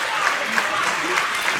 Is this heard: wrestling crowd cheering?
yes